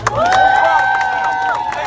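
Students at a Prairie View A&M University voter parade cheer and applaud, a loud, close crowd roar topped by a long high sustained shout, clapping underneath throughout.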